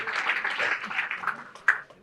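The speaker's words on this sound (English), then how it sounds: "just give those guys a round of applause" A dinner audience at a chamber of commerce event gives a round of applause, a dense wash of many hands clapping at moderate distance, steady and fairly soft, with one sharper clap near the end as it fades out.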